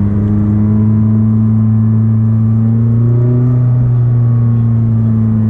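A McLaren 600LT engine droning loud and steady from inside the car while driving, a deep rough hum with a slight pitch rise partway through, no talk over it.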